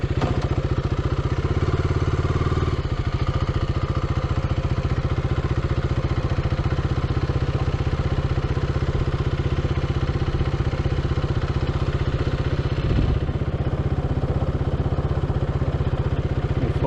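A motorcycle engine putters steadily at low speed, around 10 km/h, with a drone following overhead. The drone-tracked ride gives an even, close mechanical drone with constant clatter, one brief thump near the end, and no talking.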